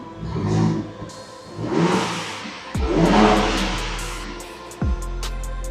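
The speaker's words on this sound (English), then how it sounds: "let me give you guys a startup and hear the revs. This is quiet mode. I'll do some revs." A six-cylinder Ford Ranger Raptor pickup with a Milltek Sport exhaust in quiet mode revs up several times close by, each rising roar falling back to a low idle rumble between bursts.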